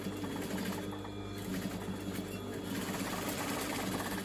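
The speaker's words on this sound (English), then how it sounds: "I'm going to just top stitch on the inside of the pocket" Sewing machine top stitching along the inside of a pocket, its steady fast mechanical whir and needle rattle running continuously at close range.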